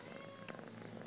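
Three kittens at a worksite lodging purr softly and steadily, very quiet and close, with one small brief sound breaking in midway.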